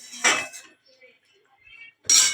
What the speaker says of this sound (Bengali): এই কড়াইটা আর একটু ধুয়ে